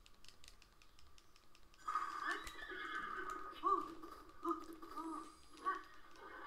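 Horse in The Legend of Zelda video game gives a faint, fluttering whinny and snorts over soft hoof clops, with quiet keyboard clicks beneath and a voice speaking at a low level.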